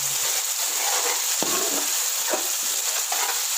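Peas, green chili, tomato and ginger fry for pulao with a steady loud sizzle close by. A spoon stirs and scrapes the pan now and then over the sizzle.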